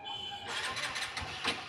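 Hero Xtreme 125R motorcycle self-starter cranking without catching, a fairly quiet, continuous whirring churn lasting under two seconds with no engine firing.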